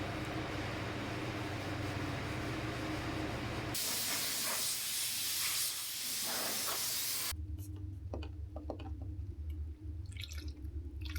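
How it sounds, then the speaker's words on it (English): Continuous hissing spray from a spray gun applying direct-to-metal epoxy primer, changing character in three sections, with intermittent drips and small clatters in the last stretch. "got to work spraying on a direct-to-metal epoxy primer"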